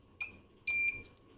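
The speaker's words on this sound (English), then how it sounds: "See, there's a nice little beepity beep." An Invitrogen Novex PowerEase 500 lab power supply gives two electronic beeps, a short chirp followed by a longer steady tone, close and clear in a quiet room.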